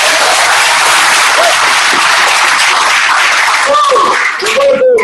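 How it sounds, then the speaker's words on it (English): Sustained, dense applause from a live audience at a distributor business event, loud and steady throughout, with a few brief vocal whoops near the end. "So let's clap it up."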